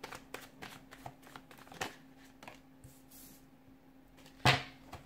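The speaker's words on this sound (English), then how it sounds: "give the cards a shuffle" Tarot cards are shuffled by hand in a series of quick riffling snaps and soft slides, close and fairly quiet, ending in a sharper loud clack.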